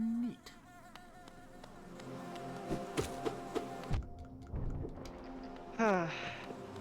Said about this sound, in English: I thought you were just flies, but yeah, I guess you're bees.